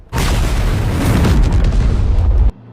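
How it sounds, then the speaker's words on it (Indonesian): A loud, deep film explosion at a pond booms and rumbles continuously for over two seconds, then cuts off abruptly. "Ledakan terjadi di kolam."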